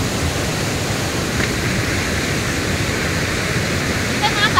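A waterfall on the Kenya–Tanzania border pours in a loud, unbroken roar of rushing water that fills the whole scene, with a few faint voices barely audible beneath it near the end.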